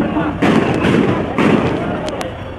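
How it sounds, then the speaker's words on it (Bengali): Dull booming tear gas and rubber bullet shots and thuds burst out in a noisy crowd during a student-police clash, a few loud pops over constant rumbling commotion. "আপনারা শুনছেন অবশ্যই গুলির শব্দ, সেই টিয়ার সেল এবং রাবার বুলেটের শব্দ"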